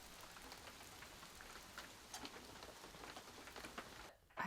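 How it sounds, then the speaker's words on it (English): Steady, heavy rain pours down outside a treehouse during a camping trip, a dense continuous hiss with scattered louder drops spattering nearby, with no voices. "It's still pouring rain."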